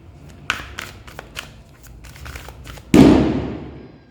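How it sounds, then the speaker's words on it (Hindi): Firecrackers burst outdoors during Diwali, with a scatter of sharp crackling pops followed by one loud, close blast that rolls off into a long decaying rumble. "देख रहे हैं आप क्रैकर्स"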